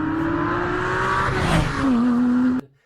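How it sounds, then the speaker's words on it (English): A sports car engine revs outside, a loud sustained drone that rises in pitch, dips, then climbs again before cutting off abruptly after under three seconds. "A Ferrari, or maybe it's a Lotus, or perhaps a Lamborghini, who knows?"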